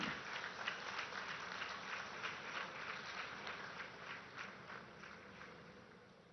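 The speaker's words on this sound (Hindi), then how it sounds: "आप सबकी तरफ से तालियों के साथ अभिनंदन और स्वागत जरूर हो।" Audience applause welcoming the Prime Minister at a public event in Deoghar, heard as a steady, somewhat distant wash of many hands clapping that continues evenly throughout and fades slightly at the end.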